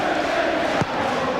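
Crowd noise fills a football stadium at Selhurst Park, Wimbledon against Everton in 1999, as the opening goal is applauded: a steady, broad wash of distant clapping and murmur with one brief low thump partway through.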